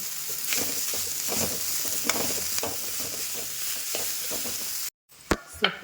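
Finely chopped greens hit browned onions in a hot pan, bringing a steady sizzle with stirring scrapes, then a brief silence followed by a few sharp clatters near the end.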